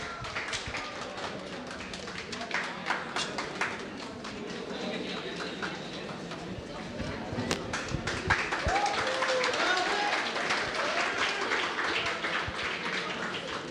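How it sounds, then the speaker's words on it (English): An audience at a dessert preparation cooking competition claps for participants, scattered hand claps that build into fuller applause, with a voice talking over it at times. "So I'm sure you all can clap for all your friends"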